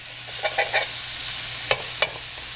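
Pork bites searing in a smoking hot pan, a steady hiss of sizzling with a few short scrapes and two sharp clicks.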